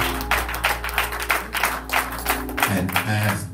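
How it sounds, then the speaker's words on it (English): A church congregation claps hands in praise, with rapid, uneven bursts of many hands over organ or music tones. A voice is heard briefly near the end. "Give God an incredible hand clap of praise tonight"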